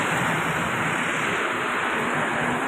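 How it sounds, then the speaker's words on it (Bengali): Strong wind blowing outdoors, a steady broadband roar like rushing air that holds constant and loud for the whole stretch, with no voices. "আবার এখন একটু হাওয়ার গতিটা বেড়েছে"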